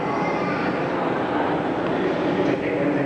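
An R110B subway train rumbles steadily with a dense, continuous roar of wheels and motors, and voices talk over the noise throughout.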